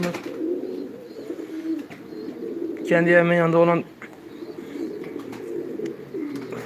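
Iraqi pigeons coo in a home loft, one clear, loud, rolling coo standing out for about a second amid softer background cooing, with someone talking over much of it.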